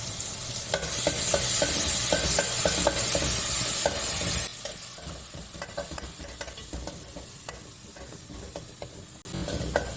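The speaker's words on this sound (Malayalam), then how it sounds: "ചൂടായിട്ടുണ്ട്, വെളിച്ചെണ്ണ ഒഴിക്കട്ടെ. കുറച്ച് കടുക് ഇടുക." Mustard seeds hit hot coconut oil in a pan and give off a loud, hissing sizzle with rapid crackling pops, which then settles into a quieter fry with scattered spits and stirring.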